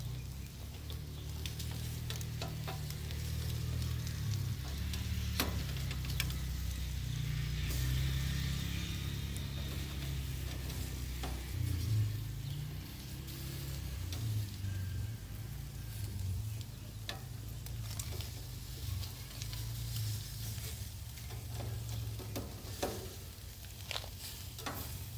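Food sears on a grill with a steady low sizzle and soft crackle that runs continuously, accompanied by occasional light clicks and taps.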